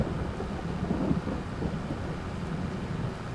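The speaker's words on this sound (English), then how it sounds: "Rain, rain, go away." A Farming Simulator 22 storm carries a continuous low rumble of thunder over steady rain and wind. The wash is even and moderately loud throughout, and no one speaks.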